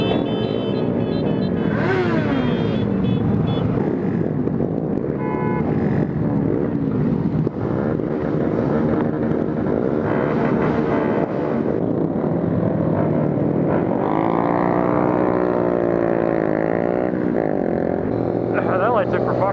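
A Honda Grom with its catalytic converter removed drones steadily from the exhaust at moderate loudness, its pitch rising and falling with the throttle, while someone talks over it throughout.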